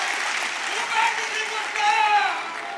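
Crowd applause at an outdoor political rally on panchayati raj rights in Tohana, Fatehabad district, a steady broadband clapping wash that swells twice, with some voices and a faint tone mixed in.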